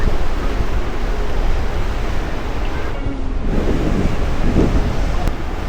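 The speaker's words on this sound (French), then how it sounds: "Il y a énormément de vent" Strong wind roars and buffets the microphone continuously, with rushing surf mixed in beneath the gusts.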